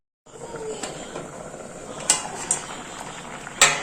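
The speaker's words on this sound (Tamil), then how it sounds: "நல்லா கொதிச்சு பாதியாக சுண்டி வந்துடுச்சு." Kadai semi gravy boiling down by half in a pot with a constant bubbling simmer, punctuated by a few sharp metallic clinks and pops.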